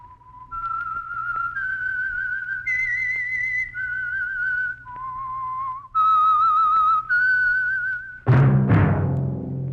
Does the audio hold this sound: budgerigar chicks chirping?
no